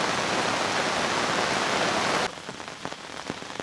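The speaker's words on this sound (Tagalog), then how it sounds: "Medyo umina ng ulan guys." Heavy rain pours steadily at a mountain campsite in Tuba, Benguet, near Baguio, then abruptly eases to a lighter patter with scattered distinct drips, close and without talk.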